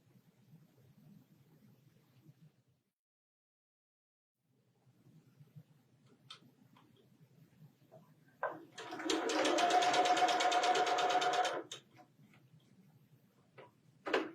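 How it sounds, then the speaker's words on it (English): Sewing machine stitching quilt half-square triangle pieces, a steady fast whir lasting about three seconds with faint ticks and handling noises before and after. "we have another half triangle to sew together"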